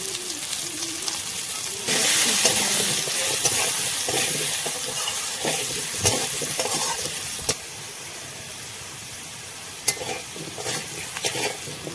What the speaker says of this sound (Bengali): একটু আলুটাও লাল লাল করে ভেজে নেব